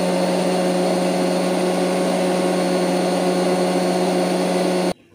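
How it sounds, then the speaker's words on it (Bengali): An electric blender grinds mustard, green chilli and tomato into paste, a steady loud whining motor hum for about five seconds that cuts off abruptly at the end. "এখন এর মধ্যে এই সর্ষাটা পেস্ট করে আনছি"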